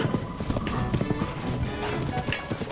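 Horse hooves clip-clopping in The Legend of Zelda: Tears of the Kingdom, a loud, steady rhythmic trot close up that carries on without pause, with a faint whinny in the mix.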